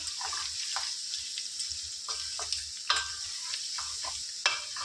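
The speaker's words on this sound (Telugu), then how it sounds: "అల్లం వెల్లుల్లి పేస్ట్ పచ్చివాసన పోయేంత వరకు చక్కగా ఫ్రై చేసుకుందాం" Ginger garlic paste fries in a pan with a steady crackling sizzle, broken by several sharp clinks and scrapes of a spoon stirring against the metal, all close and with no voices.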